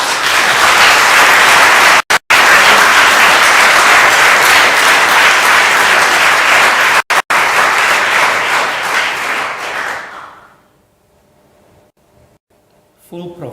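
A university audience at an inaugural professorial lecture breaks into loud, sustained applause lasting about ten seconds, broken by two brief cuts, before it dies away into near silence.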